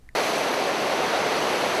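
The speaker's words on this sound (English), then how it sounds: "water is released through the Santee Spillway to the Santee River." Water released through the Santee Spillway into the Santee River at a Lowcountry dam, a loud, steady roaring rush that starts abruptly and holds unbroken to the end, with no voices.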